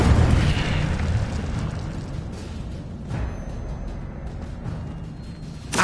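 The Incendio fire spell in Hogwarts Legacy, played on PS5, bursts as a loud roaring blast that opens strongly and rumbles on as a dense fiery rush, with a second thump midway and a pop at the end.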